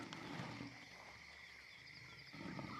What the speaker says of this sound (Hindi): वो मायूस होकर फिर दहाड़ने लगता है।